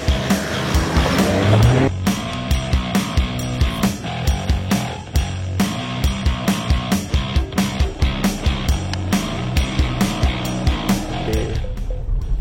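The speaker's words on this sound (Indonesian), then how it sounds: "Off-road naik Porsche. Ini meskipun jalannya tanah gini ya" Porsche Macan SUV driving over a rough, badly damaged off-road dirt track, with steady engine and road noise broken by repeated loud knocks and thumps from the suspension and body.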